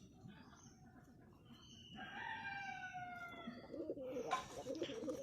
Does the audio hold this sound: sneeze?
no